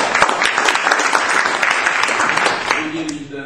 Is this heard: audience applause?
yes